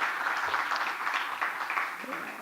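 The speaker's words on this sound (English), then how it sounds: "I would again request the audience to give a huge round of applause" A conference audience at an outreach program breaks into sustained applause, a dense wash of clapping at moderate distance that continues throughout.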